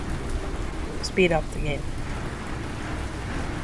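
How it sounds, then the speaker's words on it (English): Rain patters steadily in the video game Exploring Ancient Worlds, a constant wash beneath a brief spoken phrase near the middle. "it's still raining quite a lot"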